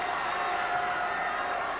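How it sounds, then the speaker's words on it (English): Crowd at a 1992 Howard County wrestling championship final cheering loudly and steadily, a dense wall of voices with no pauses throughout. "You can hear the crowd"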